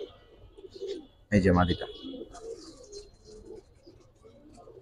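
Giribaz pigeons coo in a loft, with one loud, close burst of cooing standing out, while someone talks over faint background bird sounds.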